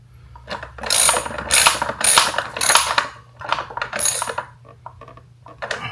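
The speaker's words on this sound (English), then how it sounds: "we're going to have to get at that from the other side in order to tighten this up with the provided hardware" Wrench ratcheting on fender mounting hardware while a Camel ADV high fender is fitted to a Yamaha Tenere 700: loud, close, repeated clicking bursts in quick runs, with no talking.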